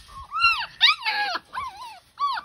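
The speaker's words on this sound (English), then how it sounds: "Puppy time. All the puppies." Labrador puppies whimper and whine in a run of high, wavering cries, close and fairly loud, with short gaps between bursts and no talking.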